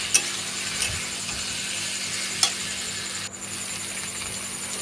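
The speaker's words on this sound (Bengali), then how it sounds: "এবার আলু পটল দিয়ে ভালো করে নেড়ে নেবো।" Potatoes and pointed gourd being stirred in a pan with a light sizzle underneath, a few sharp scrapes and clinks of the spatula against the pan standing out.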